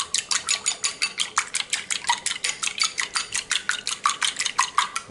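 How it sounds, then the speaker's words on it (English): An egg and two tablespoons of milk are beaten for an egg wash, giving quick rhythmic clinks of a whisk or fork against the bowl that stay steady and close for several seconds. "we'll do our egg wash, which I'll beat right now"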